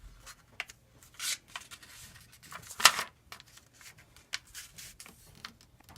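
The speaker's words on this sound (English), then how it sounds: "Now fold one of the corners." Paper is folded and creased into a record-style paper airplane. The sounds are close, soft, sporadic rustles and scrapes, with one sharp crinkle in the middle and quiet gaps between the short bursts.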